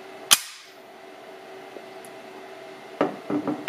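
U.S. Air Force bomb release controller and bomb rack actuating on a bench, a single sharp metallic snap followed later by several quick clanking mechanical clicks, near and otherwise quiet.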